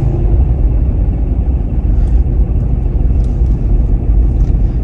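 A car reversing slowly on a quiet residential street at night during food deliveries in Australia, its low steady engine rumble continuous and fairly loud throughout, with no talking.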